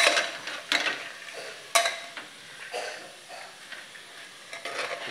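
Chickpeas are stirred slowly into a masala in a pan for Bihari-style chana masala (ghughni), with soft scraping strokes and light sizzling. Faint, irregular stirring scrapes repeat close by, and there is no talk.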